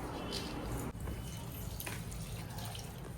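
Tap water runs steadily into a container to mix murukku dough in a home kitchen, a continuous close splashing flow with a brief dip near the start.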